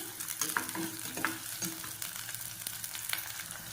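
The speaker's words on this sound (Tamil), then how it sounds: "கருவேப்பிலை சேர்த்துட்டு ரெண்டையும் சேர்த்து நல்லா வதக்கிக்கணும்" Onions and curry leaves sauté in a pan for a masala-free curry, giving a steady crackling sizzle with occasional stirring scrapes throughout, fairly quiet and with no talking.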